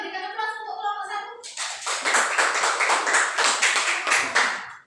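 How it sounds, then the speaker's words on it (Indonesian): A classroom audience breaks into dense, steady clapping for group 1 during an Indonesian-language lesson presentation. A voice speaks briefly first, then the applause comes in suddenly and stays loud and continuous until it stops near the end. "Silakan maju, kita berikan aplaus untuk kelompok 1."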